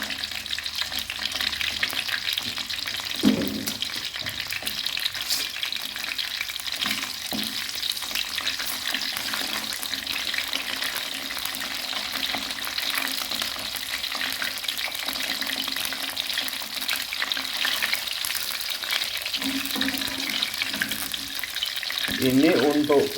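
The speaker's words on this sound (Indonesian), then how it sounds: "kita goreng ikan asapnya" Smoked fish frying in hot oil in a pan, a steady dense sizzle running throughout with occasional stirring scrapes and clatters, close and fairly loud.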